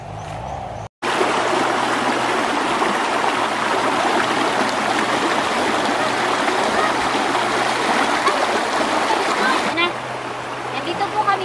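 Cold spring water welling up from underground at Aniog, Sagnay, Camarines Sur flows in a loud, continuous rushing stream close to the microphone, with a brief cut near the start.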